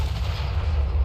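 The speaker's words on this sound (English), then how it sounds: "listen to some of the grand cannons" A volley of grand cannons fires in a Total War-style battle game set in southern Cathay, a loud continuous rumbling boom that fills the whole moment with no voices.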